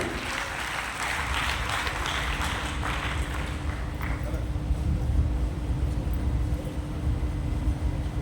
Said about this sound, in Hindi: एक बार जोरदार और तालियां आपके लिए बजा दी।